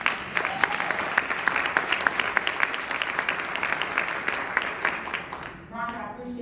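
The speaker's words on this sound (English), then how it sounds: "So give them a round of applause." Audience applause at a moderated coaching event, dense steady clapping from a crowd that carries on for several seconds and then fades out, with a voice speaking over the tail end.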